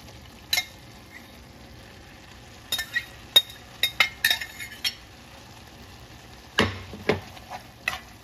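Meat being stirred into a hot tomato stew for ropa vieja, with a series of sharp utensil scrapes and clinks against the pan over a low background sizzle, clustered in irregular bursts.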